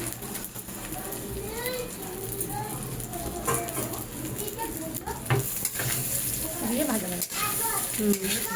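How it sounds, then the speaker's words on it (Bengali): Rice and whole garam masala frying in ghee for basanti pulao, a close crackling sizzle with stirring scrapes, while people talk over it and birds chirp faintly in the background. "এইবার যে চালটাকে মাখিয়ে রাখা হয়েছিল সেই চালটা পুরোটাই ঘিয়ের মধ্যে দিয়ে দেওয়া হলো।"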